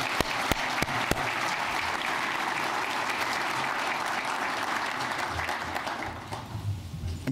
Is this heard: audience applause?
yes